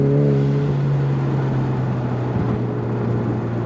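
A car with a small 4-cylinder engine picks up speed, its steady drone and rising engine tone heard from inside the cabin, loud and continuous with road noise underneath.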